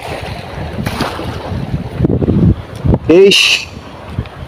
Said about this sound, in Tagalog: Grabing lakas talaga ng hangin